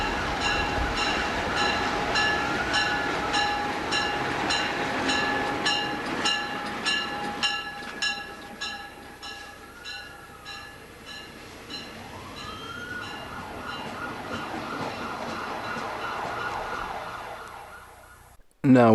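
Bay Colony Railroad locomotive 1061 passing close by on the line at Needham, a continuous loud rumble with repeated horn-like tones and ringing overtones, fading slightly before an abrupt cutoff.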